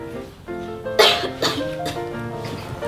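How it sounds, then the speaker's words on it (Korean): A sudden cough bursts out once, with a short follow-up, loud and near over a faint background of music or tones. "방금 기침했잖아."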